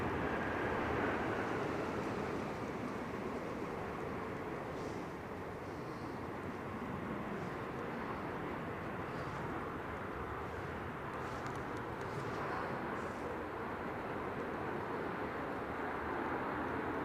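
An airliner crosses a runway at Manchester Airport, heard as a steady, broad, distant engine roar that holds at a constant level throughout, with no voices.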